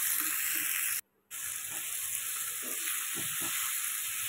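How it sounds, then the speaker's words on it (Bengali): Chili powder, salt and cumin powder frying in oil, a steady close hiss with a brief cut-out partway through and soft stirring clicks underneath, no voices. "আর জিরের গুঁড়ো দিয়ে আমি 2 মিনিট মতো একটু ভেজে নেব"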